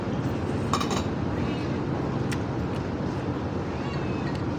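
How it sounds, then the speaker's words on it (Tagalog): A cat meows insistently indoors, a few short calls standing out over a steady, noisy background hum. "The cat is keep on asking."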